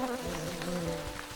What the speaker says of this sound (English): Don't mind me, mosquitoes.